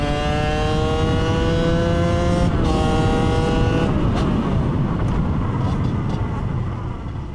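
A two-stroke project motorcycle engine revs up hard under load, a loud buzzing tone rising in pitch through the power band, dropping briefly, then climbing again before settling into a rough, steady drone.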